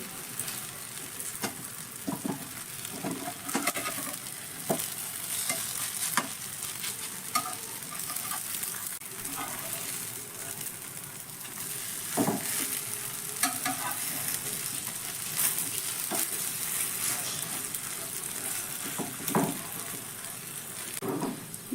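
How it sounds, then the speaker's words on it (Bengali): Snacks frying in oil in a pan, a steady close sizzle throughout with occasional stirring scrapes and clinks, no talking. "দুই দিকই লাল লাল করে আমার এই নাস্তাগুলো ভাজা হয়ে গেছে"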